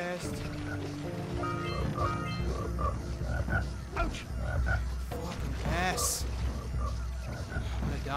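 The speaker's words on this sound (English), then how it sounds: "That frog's gonna kill me." A frog croaks repeatedly in the Jak and Daxter video game, its calls mixed with game music and water sounds while a player talks over it.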